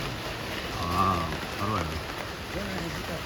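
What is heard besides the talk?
rain falling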